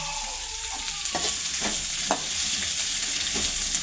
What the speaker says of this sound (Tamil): சட்னி நல்லா வதங்கட்டும்